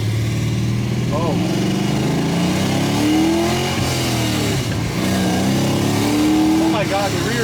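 A BMW E46 swapped with an LS V8 engine revs hard while driving, a loud continuous engine roar with rising and falling pitch, close up, with people talking over it.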